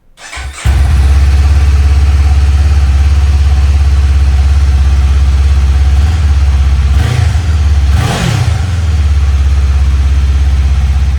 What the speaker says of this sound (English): Obviously had to start it and give it a little rev.